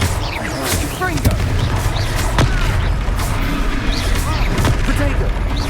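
A Confringo fire spell bursts during a Hogwarts Legacy duel: a dense game mix of booming blasts and crackling impacts, with several sharp transients over a continuous loud rumble, and voices talking in the background.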